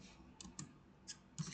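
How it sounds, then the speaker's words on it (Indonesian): Quiet keystrokes on a computer keyboard: a few separate clicks spaced irregularly over about a second and a half, close and soft, with no talking. "Kita ketik"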